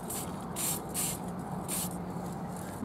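An aerosol spray can hisses dark brown paint onto small 3D printed tabletop buildings in four short, fairly loud bursts separated by brief pauses.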